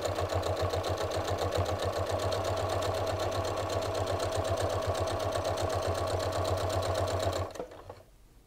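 A sewing machine with a regular presser foot stitches a pocket tissue holder in matching thread, running at a fast, even rhythmic whir, close and steady, before stopping abruptly near the end.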